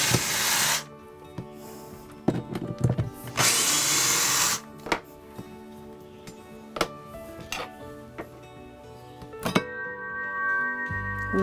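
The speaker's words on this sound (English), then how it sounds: "This would be much quicker if I use my drill." A power drill whirs in short bursts, one longer run, with clicks and knocks of handling between and a brief low hum at the end.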